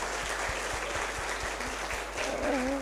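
Audience of vocational high school students applauding at a food policy outreach event, a steady wash of clapping with a low hum underneath and a faint voice near the end.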